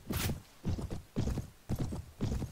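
Horse hooves clip-clopping in the medieval game Mount & Blade, five heavy evenly spaced hoofbeats close by, each a dull thud with a sharp top.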